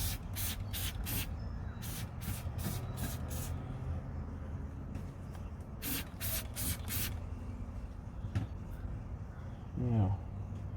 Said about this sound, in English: let me give this another quick spray